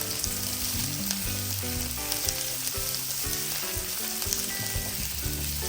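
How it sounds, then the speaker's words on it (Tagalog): Garlic and onion sautéing in a pan for pork liver bistek, a steady sizzle running under loud background music that carries through the whole stretch, with no talking. "Ari naman ay gigisahin ko din lamang ng bahagya din hanggang sa maglabas na ng sariling aroma aring ating sibuyas at ang ating bawang na rin"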